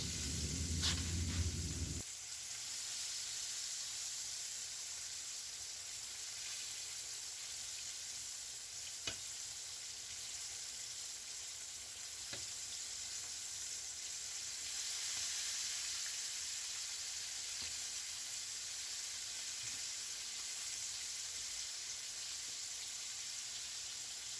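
Plant-based patties fry and brown in a pan with a soft, even sizzle that holds steady throughout. A brief louder rumble opens the stretch, and a few faint clicks come later.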